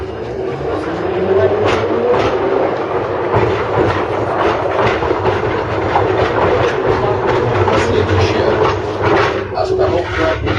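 A city tram rides route 7 with a loud, continuous rumble and a rhythmic clickety-clack of wheels over rail joints, heard close from on board while a voice talks over it.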